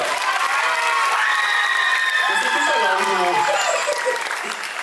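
Sustained applause from an audience at a Lady and Lord pageant evening in Réunion, steady and loud throughout, with shouts and a voice rising over the clapping partway through.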